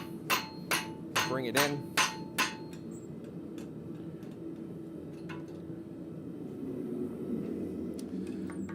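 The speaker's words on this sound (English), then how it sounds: "Occasionally I'll have to grab my hammer" A hammer strikes a steel cloak pin on a forging jig in a blacksmith shop, with about seven quick, ringing blows in an uneven rhythm, then quieter shop noise and a few words of speech.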